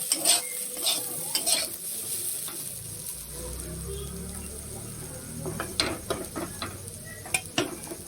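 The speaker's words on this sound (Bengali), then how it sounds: "আলু ভাজা হয়ে গেছে, এবার আলু ভাজাটা তুলে নেব।" Fried potatoes are scooped from sizzling oil in a pan, with repeated sharp scrapes and clinks of a spatula against the metal over a continuous soft frying hiss.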